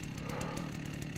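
Chainsaw in the Rust video game, a steady buzzing engine running continuously and fairly close for a brief moment, with no talk over it.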